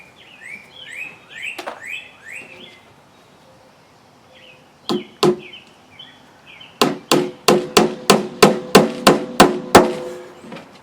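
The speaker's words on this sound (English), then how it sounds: "Let's take our 4-penny nails and start nailing it." A hammer drives 4-penny nails into wood while building a cornhole board, a steady series of about ten sharp, close knocks in the second half, after a few earlier strikes and faint birdsong outdoors.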